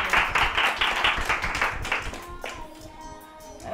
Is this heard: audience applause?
yes